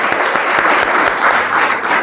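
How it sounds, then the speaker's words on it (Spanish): Loud, dense applause from a church congregation welcoming a newcomer to the service, a steady wash of clapping that stays even throughout with no voices breaking through. "Le damos un aplauso."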